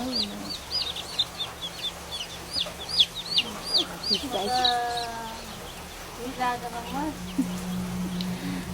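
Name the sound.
chicks and chicken clucking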